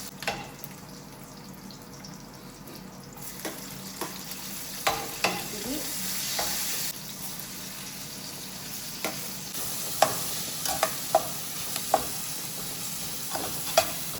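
Garlic and vegetables sauté in oil in a pan, a steady close sizzle broken by repeated sharp clinks and scrapes of stirring, with no talking.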